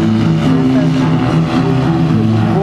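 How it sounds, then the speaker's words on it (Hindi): A small Black Hornet nano surveillance drone hovers in front of a stage at an Indian Army armed forces display, giving a steady, loud, buzzing propeller whine that holds constant throughout. "इसी बीच मंच के सामने आप देखेंगे छोटा सा ब्लैक हॉर्नेट होवर करता हुआ।"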